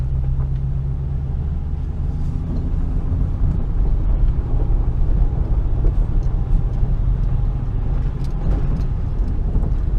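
A 2005 Mustang with a freshly swapped transmission drives along, giving a steady low engine and road rumble from inside the car, even in level with no clear break from a shift and no voices.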